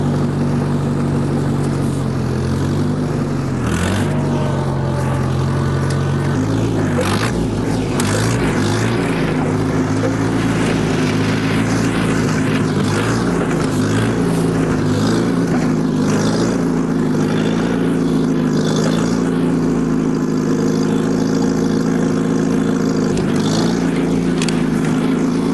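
A 1949 Farmall Cub tractor plowing snow without tire chains, its small engine droning loud and steady close by for the whole stretch, with a constant low rumble and slight shifts in pitch as it works.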